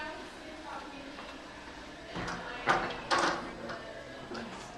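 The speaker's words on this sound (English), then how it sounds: "I'm gonna close the door." An indoor door swings shut with a couple of soft thumps and a latch-like knock, moderately close against a low room hum.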